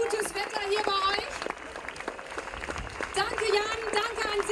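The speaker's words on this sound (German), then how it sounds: "danke an Selig, großartig, großen Applaus" Scattered clapping and cheers from an audience at an outdoor Greens campaign rally in Hamburg, rising near the start and end, mixed with a speaker's voice over a loudspeaker.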